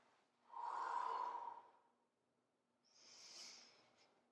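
A single loud, drawn-out breath, then a softer, hissier second breath about two seconds later, taken close and alone during the table pose of the Five Tibetan Rites exercise routine.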